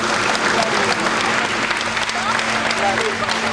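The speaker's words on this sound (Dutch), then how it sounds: "Ein Applaus bitte an unsere nassen Bootsmänner." An audience applauds a demonstration at a film studio, with dense, steady clapping from a crowd held at an even level throughout.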